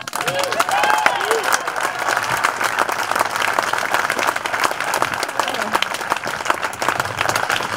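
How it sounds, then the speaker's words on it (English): Sustained crowd applause fills an outdoor groundbreaking ceremony for a college athletics complex, steady dense clapping with some cheering and whistles, loud and continuous throughout. "make sure you guys applaud her and support her as she approaches"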